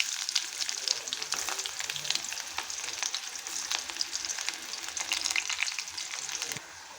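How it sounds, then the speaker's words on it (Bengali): Chopped onion sizzles in hot oil with cumin seeds in a wok, a steady close crackling hiss with frequent sharp pops and occasional stirring scrapes, with no talk. "এখন দিয়ে দেবো পেঁয়াজ কুচিয়ে রাখা।"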